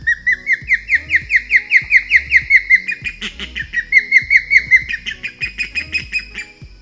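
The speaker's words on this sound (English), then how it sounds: "I'll play their call right now." Osprey call: a run of rapid, high, whistled chirps repeated in an even rhythm, close and clear, rising in intensity midway, with no voices.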